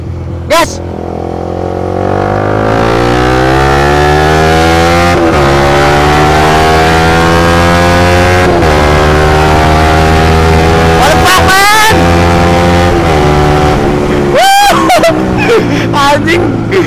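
A Honda CBR motorcycle engine revving hard during a test run, the pitch climbing steadily through long pulls with brief dips between gear changes, loud and close under wind noise.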